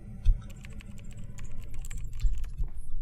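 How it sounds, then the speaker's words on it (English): Rapid keyboard typing sounds in a video game clatter in uneven bursts, close and fairly clear, with low thumps underneath. "I hear like typing sounds"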